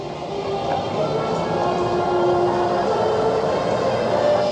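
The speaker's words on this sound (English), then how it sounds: "Oh, there's the train." A train at Busch Gardens Williamsburg amusement park rumbles past steadily and fairly loud, a continuous low roar with faint metallic rail hum throughout.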